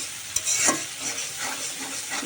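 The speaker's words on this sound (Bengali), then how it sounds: "এই যে মশলাগুলো আমি এইভাবে কষাই নিচ্ছি" Spices sizzle and fry in a pan for a jackfruit kofta curry while being stirred, with a steady close crackle and a few sharper scraping strokes, and no talking.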